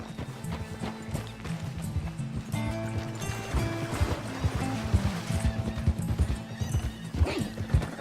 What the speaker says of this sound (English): Fine horse you got there.